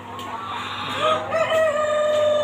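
Hens cluck at a Thai egg farm while a rooster lets out a loud, drawn-out crow close by, over a steady low hum of farm noise.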